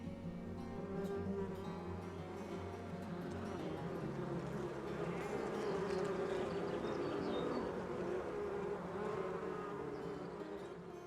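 Honeybees swarm around hives in a bee yard tended by local beekeepers in Onslow County, making a dense, steady buzzing drone that holds at an even level throughout, close and continuous with no voices.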